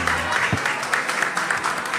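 An audience claps during a live radio show at a bar with music, steady rhythmic clapping running for the whole stretch, with voices faintly mixed in.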